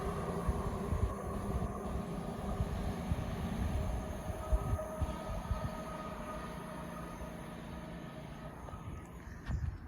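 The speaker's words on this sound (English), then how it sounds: "And that is going to be the final train in this video." A train rumbles steadily past Filton Abbey Wood station, a continuous low roar of wheels on rails close by, with faint rhythmic clatter and no talk.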